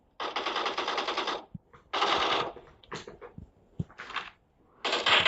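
Machine gun fire in a video game comes in several loud, rapid bursts separated by brief pauses, with a few single clicks between them.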